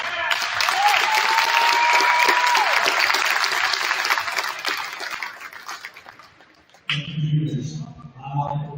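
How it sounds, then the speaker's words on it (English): Crowd applause for the seniors at a high school basketball game between Jordan and Delano, loud sustained clapping and cheering that fades away, followed by a short burst of talk and noise. "One final applause to our seniors."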